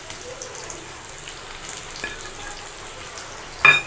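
Two large chopped onions fry in a tablespoon of oil for a biryani onion salan, a soft steady sizzle with a few light stirring taps and a sharper clatter near the end, no speech.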